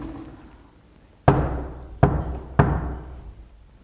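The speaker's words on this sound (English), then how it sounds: "open the door and maybe knock on the door" Three loud, sharp knocks on a door in a reputedly haunted house, spaced unevenly, close and distinct over quiet room tone.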